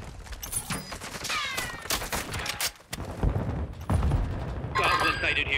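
Call of Duty firefight with rapid bursts of automatic gunfire and booming shots in dense, loud volleys, mixed with in-game voice callouts and clamor.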